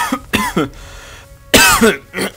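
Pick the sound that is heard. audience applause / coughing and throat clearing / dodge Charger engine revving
coughing and throat clearing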